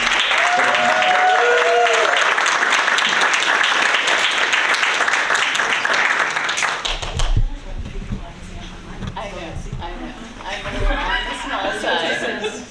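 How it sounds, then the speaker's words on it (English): Applause at a school board meeting fills the room, with many hands clapping in a steady dense wash for several seconds. It then drops to scattered claps under chatter and a voice speaking nearby. "So how about a round of applause?"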